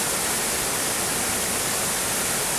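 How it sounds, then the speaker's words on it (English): Glenashdale Falls on the Isle of Arran, a fast-flowing river plunging over a waterfall, makes a loud, steady broadband roar and rush of water that fills the air without a break, with no voices over it. "This tiny wee bit, that's not actually waterfall,"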